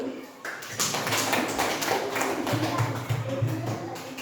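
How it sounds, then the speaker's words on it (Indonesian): A group of students clap their hands together in a classroom, a dense, close burst of applause running under a speaking voice. "Tepuk tangan dulu."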